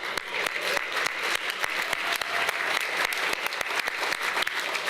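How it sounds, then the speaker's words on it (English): Sustained applause from a large audience at an awards gala, dense and steady clapping throughout. "Let's have one more round of applause."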